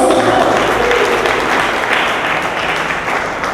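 A congregation applauds during a sermon, producing a loud, dense, continuous wash of clapping that holds steady and tapers only slightly toward the end.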